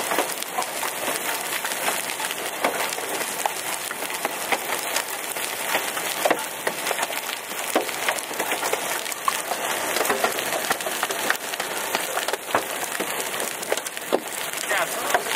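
Hailstones, some around quarter size, pelt a flexible car roof during a Nebraska hailstorm, a dense steady patter of sharp clicks and knocks with occasional louder bounces, heard close from inside, while people talk in the background.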